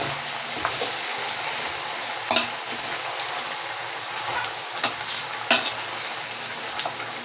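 Raw mango chutney stirred with melting jaggery in a pan over the heat, a constant close sizzle and bubbling with occasional scraping knocks of the spoon, no speech.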